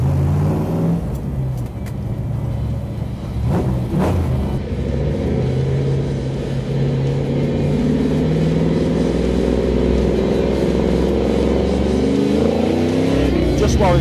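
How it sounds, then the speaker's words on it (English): A 1967 Ford Mustang Fastback driving, its V8 engine rumbling loud and close with a rev surge early on, then holding a steady deep drone, with a voice over it. "The thrills of this car really are the power and the performance of it, and of course the noise, which is quite amazing."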